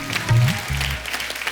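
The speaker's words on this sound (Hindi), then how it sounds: "जोरदार तालियां उषा उत्तप जी के लिए" A studio audience claps for a guest on a TV comedy show. Loud applause swells around a low sustained tone and fades out within about a second and a half.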